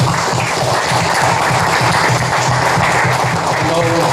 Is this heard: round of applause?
yes